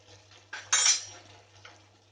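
Salted prawns are mixed with turmeric powder in a bowl for a Goan prawn masala: a few close, quiet clinks and scrapes of a utensil against the dish, with one brighter clatter near the middle.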